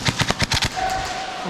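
A quick burst of rapid airsoft gun fire in a speedsoft arena, about six close snapping shots in under a second, followed by a fading mechanical whir.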